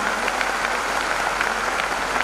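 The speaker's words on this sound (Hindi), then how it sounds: "एक बार जोरदार तालियां हमारे क्रांतिकार लोगों के लिए" A crowd at a motivational business seminar in Chandigarh claps steadily and loudly, a dense continuous applause with no pauses.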